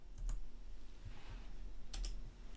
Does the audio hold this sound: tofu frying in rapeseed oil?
no